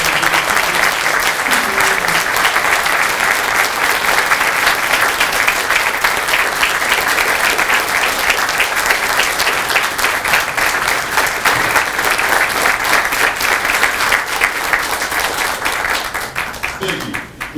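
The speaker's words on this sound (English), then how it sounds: "Ladies and gentlemen, a round of applause for this." Loud, sustained applause from a large crowd at a Marine Corps recruit graduation ceremony, a dense continuous roar of clapping lasting well over fifteen seconds and tapering slightly at the end.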